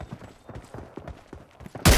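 A quick rhythmic string of light gunshots in a mobile shooter game played on a Poco X3 Pro, ending in a sudden loud, sharp blast right at the close.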